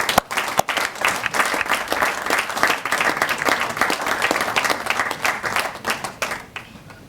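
An audience gives another round of applause for Prof. Ibbo Mandaza at the close of his memorial lecture, a loud burst of many hands clapping with individual claps audible, tapering off at the end.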